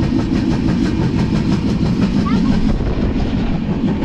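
The 22115 LTT–Karmali Express runs along the Konkan line toward Kankavli in monsoon weather, a dense loud rumble with rhythmic clickety-clack heard from on board, faint voices mixed in.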